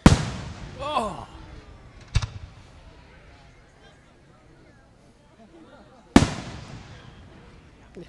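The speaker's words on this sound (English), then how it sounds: "I love fireworks." Fireworks burst at an outdoor fair: a sharp bang at the start, another about two seconds in, then a quiet stretch with faint background activity before a final loud crack, each blast trailing off in a rumbling echo.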